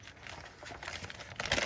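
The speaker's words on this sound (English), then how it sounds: "we could use the ruler and rip along the ruler line" Paper being torn along the straight edge of a ruler while making a masterboard: dry, steady crinkling and ripping up close, growing louder and sharper near the end.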